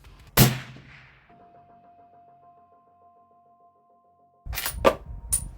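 A single rifle shot through a Precision Armament TiTrex suppressor gives a sharp, loud crack with a brief decaying tail, followed after a pause by a burst of closer mechanical clatter and clicks.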